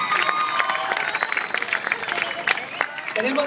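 Audience applause and cheering for drag queen Suri at a Cancún queens' runway show, a dense crowd clapping steadily for several seconds with scattered louder claps.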